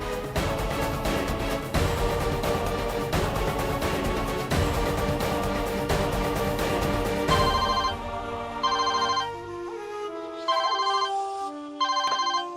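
A phone ringtone plays loudly and steadily, first as a dense melodic passage, then as short repeated tone bursts with brief gaps between them.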